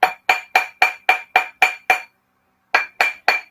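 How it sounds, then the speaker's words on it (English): Sterling silver spiral ring struck repeatedly with a metal hammer: a steady series of sharp, ringing clinks, a brief pause, then more blows, close and loud with no talking. "so we have to flip it over and hammer again to make the whole thing"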